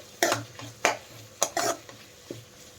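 A utensil stirs thinly sliced carrots and onions frying in a pan, several distinct scraping clatters against the metal over a soft background sizzle.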